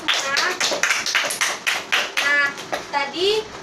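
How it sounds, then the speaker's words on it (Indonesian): A Grade 6 classroom claps together after a patriotic song, with rapid, uneven hand claps from a group of children and light voices rising through the applause for several seconds. "Tepuk tangan dulu untuk kita semua."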